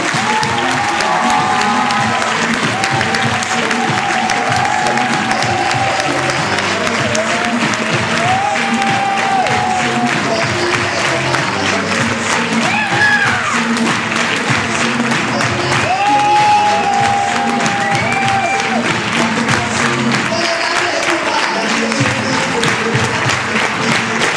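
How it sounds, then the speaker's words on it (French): A large crowd at a first campaign rally gives a sustained thunder of applause for Élise Boscherel, loud and unbroken, with scattered cheers and voices mixed into the clapping. "de faire un tonnerre d'applaudissements à Élise Bocherel"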